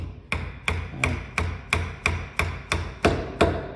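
Mallet blows drive a chisel vertically into wood to cut a mortise for Chinese/Japanese-style mortise and tenon joinery, about eleven evenly spaced, close, crisp knocks with a woody thud, no talking.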